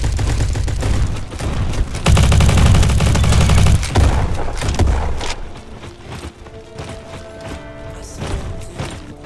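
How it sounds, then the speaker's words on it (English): A shotgun fires in the Roblox shooter Bad Business, heavy overlapping blasts and mechanical pumping clatter crowding the start, then thinning into scattered gunfire and game sounds. "That shotgun is something serious, bro."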